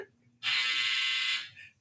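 A clothes dryer's end-of-cycle buzzer sounds once, a loud, steady electric drone lasting about a second in a quiet room, then stops.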